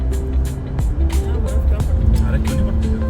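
A car climbs a broken mountain road near Manali and Sethan in Himachal, its engine droning steadily and close with faint rattles, while people talk over it throughout.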